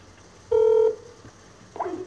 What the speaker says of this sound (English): I don't know why it keeps ringing like that, but it must be a Skype thing